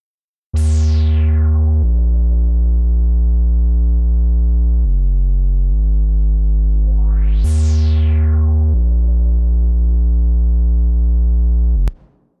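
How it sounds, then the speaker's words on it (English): Layered dubstep bass lines in Ableton Live, EQ'd to remove rumble, play together as a loud, steady synth bass tone that shifts pitch in long held notes, with a bright sweeping attack at the start and again midway. "This is the basses together."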